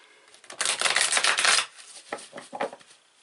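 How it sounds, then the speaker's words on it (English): Tarot cards are shuffled by hand: a loud riffling burst of about a second, then several shorter, quieter flicks and riffles of the stiff deck close up, with no talking. "I love these cards. They're hard to shuffle though."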